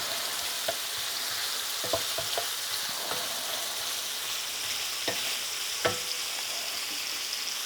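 Half a pre-chopped white onion fries in a pan with a soft continuous sizzle, punctuated by occasional scraping clicks from stirring, close and steady with no voices.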